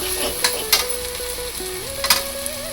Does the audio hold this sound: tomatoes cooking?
yes